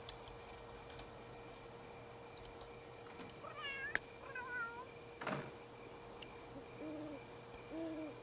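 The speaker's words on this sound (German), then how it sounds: "Wer schreit? Wo sind die Katzen?" Several cat meows from The Sims 3 life simulation game arrive in a quick cluster mid-way, fairly soft over a constant game ambience, followed later by lower, hoot-like calls.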